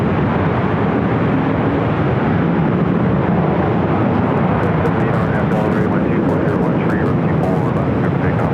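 An Airbus A380 airliner arriving on runway 25 left at LAX, a loud, continuous broadband engine roar filling the whole stretch, with faint talk underneath.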